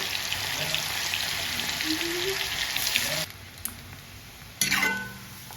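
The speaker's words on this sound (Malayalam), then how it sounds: "ഇതിലേക്ക് മീൻ നമുക്ക് വറക്കാനിടാം." Tuna pieces sizzle loudly and steadily in hot oil, go quieter for a moment, then flare up again with a fresh burst of crackling.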